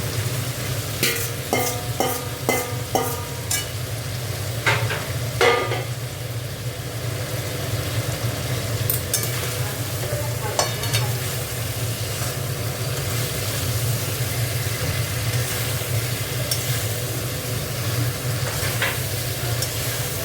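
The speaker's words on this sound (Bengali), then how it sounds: "একটুখানি কষে নেবো ফুলকপিটা দিয়ে।" Cauliflower tossed with spices in a hot pan for a vegetarian cauliflower and potato curry gives a continuous close sizzle, with a quick run of utensil clinks and scrapes early on, then steadier frying with occasional stirring knocks.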